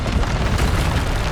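Bombarda blasting spell detonating in Hogwarts Legacy, a loud, dense rumbling boom filling the whole moment with no gap.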